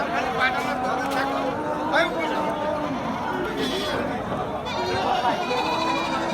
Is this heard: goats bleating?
yes